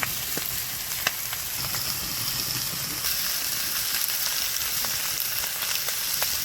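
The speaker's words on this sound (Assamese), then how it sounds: "এতিয়া আকৌ লৰাই মাংসখিনি ভাজি আছোঁ" Pork pieces sizzle steadily in a hot pan while being stirred, with a constant close frying hiss broken by light scraping clicks from the stirring.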